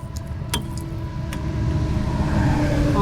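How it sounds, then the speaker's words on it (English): Road traffic on a bridge above a lake makes a steady low rumble that grows louder toward the end as a car passes. A couple of sharp metallic clicks sound early on. "Sorry for the traffic, guys, but I am under the bridge."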